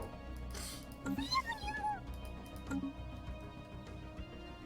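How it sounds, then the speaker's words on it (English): A cat-like meowing anomaly sound rises and bends in short wavering cries in the space strategy game Stellaris, heard under a steady electronic music bed with brief soft tones around it. "It sounds like a cat meowing, I'm sure."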